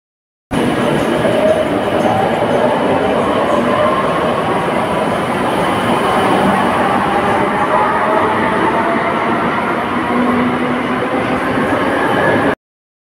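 A metro train pulls out of Girish Park underground station, a loud continuous rumble and rolling roar of wheels on rail echoing in the tunnel for over ten seconds, with faint whining tones.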